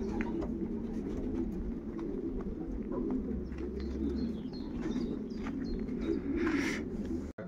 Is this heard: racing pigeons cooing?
yes